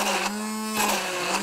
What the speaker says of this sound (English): You could use an immersion blender